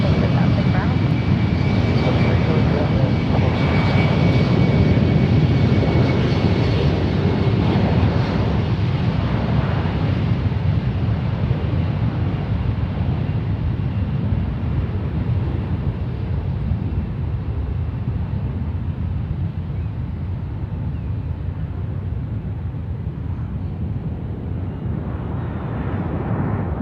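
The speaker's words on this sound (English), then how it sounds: "You guys might have seen the parallel takeoff start there, but that was a big win for one right" Jet airplanes take off on parallel runways at San Francisco International Airport, a broad, loud engine roar that slowly fades into the distance.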